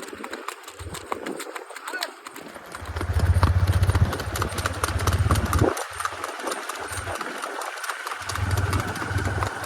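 A mare walks with steady clip-clopping hooves, the rhythmic footfalls moderately close, while a low engine rumbles intermittently underneath.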